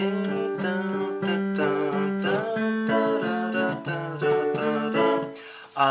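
Keyboard chords play the steady, rhythmic chorus progression of a song, bright and close, changing every beat or two with no voice over it.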